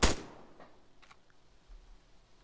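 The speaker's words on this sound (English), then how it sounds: "He's taking fire from both sides." A single sharp gunshot in ARMA 3 cracks at the very start, then fades into a faint, distant tail with a couple of quieter far-off reports.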